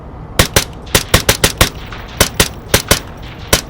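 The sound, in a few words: gunfire in the video game Onward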